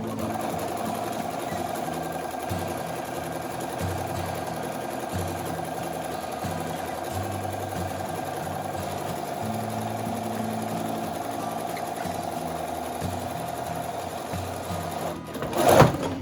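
Sewing machine zigzag stitching along the edge of a fabric face mask, a steady close-up motor whir with a faint rhythmic needle pulse that runs unbroken for over fifteen seconds, then a brief louder clatter at the end.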